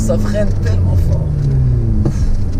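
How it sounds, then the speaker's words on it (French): A Ferrari F8 Spider downshifts and brakes hard on a road in Morocco, the engine note dropping in steady low tones with the blip of gear changes while people talk over it inside the car. "Le downshift, ça freine tellement fort"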